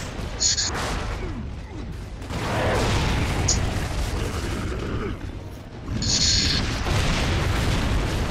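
Boomshot grenade launcher fire in Gears of War 2, two heavy booming shots with mechanical reload clanks, spaced a few seconds apart amid battle noise, while players talk over the action.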